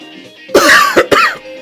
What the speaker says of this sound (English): So I have a bit of a cough.